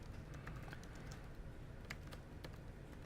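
Computer keyboard keys tapped in a few scattered, faint clicks over a steady room hum, irregular and soft with no voices.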